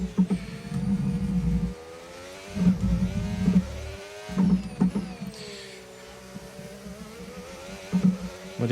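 A Formula 1 car engine in the F1 2025 racing game screams up through the revs with rapid gear shifts, its pitch repeatedly climbing and dropping in a loud, continuous whine.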